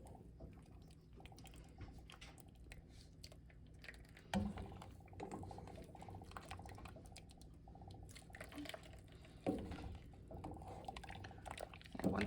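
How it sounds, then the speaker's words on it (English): Sheep milk cheese curds and whey pour into a sieve over a bowl, a faint liquid trickle and drip with a few soft splashy pulses where more is tipped in. "I will usually just pour the rest on to get the rest of the little bits of cheese"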